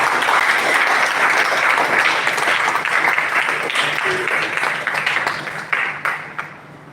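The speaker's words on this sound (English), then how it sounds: "You need to clap for yourself because you did it." A live audience claps for itself after submitting projects, sustained dense applause that gradually tapers into a few late, louder individual claps, with some voices mixed in.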